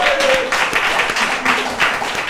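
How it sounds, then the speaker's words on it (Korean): Church congregation applauding a young man introduced at a worship service, a short burst of scattered clapping, fairly close, with a brief voice and tone underneath. "박수 주십시오."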